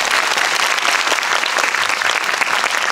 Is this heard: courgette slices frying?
no